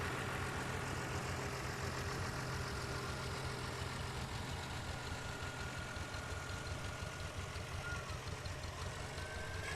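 A Farmall 806 diesel tractor engine idles and chugs with a steady low rumble at a Fourth of July parade, heard continuously and moderately loud.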